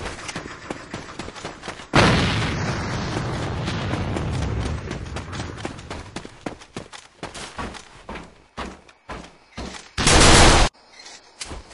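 In the shooter game A.V.A, rapid gunfire crackles throughout. A grenade goes off in a loud, sustained booming blast, followed by more scattered shots and a second burst of explosion noise near the end.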